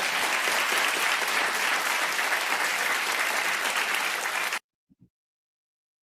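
A late-night TV studio audience claps in a full, steady burst lasting several seconds before cutting off abruptly into silence.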